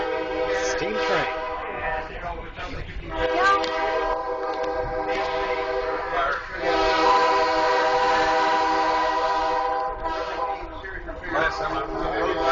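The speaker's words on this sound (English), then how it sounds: "Steam train." Steam train at a South Carolina railroad museum sounding a long, loud, sustained whistle in several blasts, with the rumble of the train running underneath.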